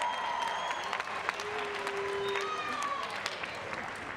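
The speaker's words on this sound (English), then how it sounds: "let's give both of these ladies a big round of applause" An arena crowd applauds after a women's bout at a Shamrock FC fight night, a steady wash of clapping with a few whistles and an announcer's voice over it.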